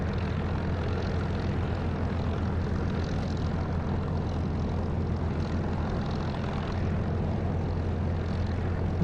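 An aircraft engine during takeoff in the DCS flight simulator, heard as a loud, steady, droning propeller-engine roar that holds constant throughout, with no voices.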